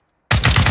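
AK rifle spray-firing in a shooter video game, a loud rapid burst of about five evenly spaced shots that starts abruptly after a moment of silence.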